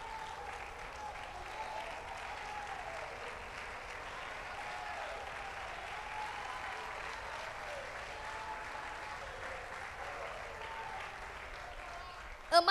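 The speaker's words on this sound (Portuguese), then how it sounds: "Pode sentar aplaudindo ao nome do Senhor" A church congregation applauding steadily in a dense wash of clapping, with a preacher's voice faintly over it, sustained and even throughout before a sharp bump at the very end.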